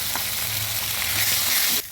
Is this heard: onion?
yes